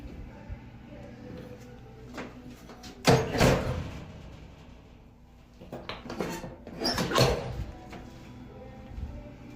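A door is pushed open by its emergency handle, giving two loud clunking, rattling bursts several seconds apart against a quiet indoor background.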